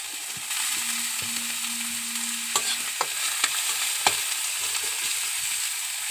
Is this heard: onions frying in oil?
yes